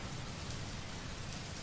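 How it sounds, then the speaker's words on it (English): Dense rain pours steadily into a room whose roof has come off during a cyclone, a constant close hiss of drops striking surfaces with no voices. "it's just raining inside the room right now"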